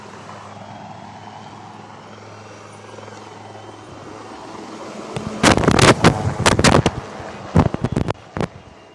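An army rescue helicopter over the Girna River at Malegaon, during the rescue of stranded fishermen, makes a low steady rotor drone, then loud, gusty bursts of rotor wash buffet the microphone.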